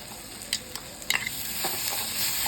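Ground masala paste is stirred into sprouted val beans frying in a pan, producing a steady close sizzle broken by a few light scrapes and taps of the spoon. No one speaks.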